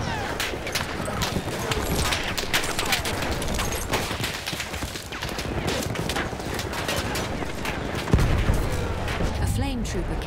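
Rapid, sustained bursts of enemy machine-gun fire in a war video game, dense and continuous for about ten seconds alongside scattered gunshots, with voices calling out over the shooting.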